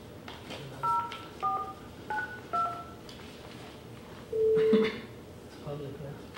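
A telephone keypad dials a number, giving a quick sequence of about four short two-tone beeps, then a longer single tone, while people talk quietly in a room nearby.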